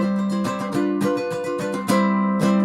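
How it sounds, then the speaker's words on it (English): Acoustic guitar strumming, several bright full chords struck in a steady rhythm, close and clear with no voices. "this is my basic strumming sound"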